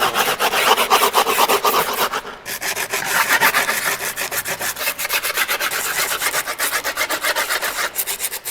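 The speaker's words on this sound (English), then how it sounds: "just take whatever you got and just start scraping" Grip tape on a skateboard deck scraped hard along its edges, a loud, continuous gritty rasping made of rapid repeated strokes that runs without pause for several seconds, close to the mic, with no voices.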